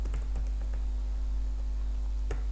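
Keys on a computer keyboard tap in a sparse, uneven run of clicks close by over a steady low hum, with one sharper keystroke near the end.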